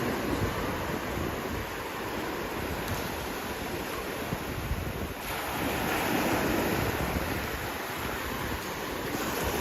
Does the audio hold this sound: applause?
no